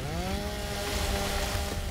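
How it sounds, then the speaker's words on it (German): Revving chainsaw weapon in the game Gears of War Ultimate, a steady buzzing engine drone running loud and continuous, with gunfire-like clutter underneath. "Er macht das mit der Säge, ist auch gut."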